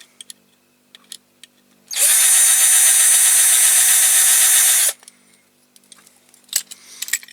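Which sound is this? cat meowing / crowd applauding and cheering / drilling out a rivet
drilling out a rivet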